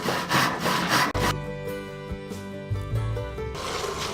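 Hand saw cutting through a chunk of fence-row wood into pen blanks, with rapid rasping back-and-forth strokes at first, then a lingering ringing hum from the saw blade and a few softer scrapes, close and without talking.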